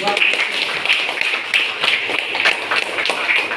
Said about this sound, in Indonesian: Bagus, dua-dua tepuk tangan.